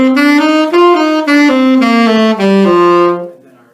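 A saxophone plays a D mixolydian scale as a run of smooth, sustained notes stepping through the scale, close and full-toned, ending with a held note that fades out; no talking.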